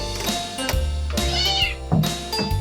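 A cat rescued from a well where it was trapped for two days meows loudly and up close, three or four drawn-out calls in quick succession with short breaks between.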